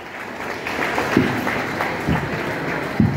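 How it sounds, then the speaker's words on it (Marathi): An audience claps for a team at a gathering, producing a steady wash of applause that lasts about three seconds with a few sharper claps standing out. "एकदा आपल्या सगळ्या टीमसाठी टाळ्या देऊया जोरदार जरा"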